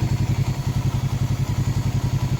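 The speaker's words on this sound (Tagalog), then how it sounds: "umandar yung radiator fan" Radiator fan of a Rusi RFI 150 motorcycle runs close and loud beside the idling engine, which gives a steady, rapid, even pulsing throb. Nobody speaks.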